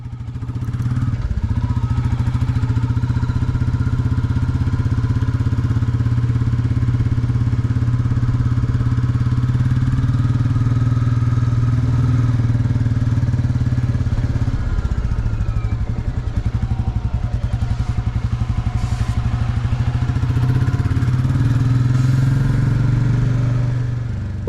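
A Royal Enfield Classic 350 motorcycle engine idling nearby with a deep, steady thumping putter, loud and unbroken for the whole stretch, with a slight throttle blip midway and no talking.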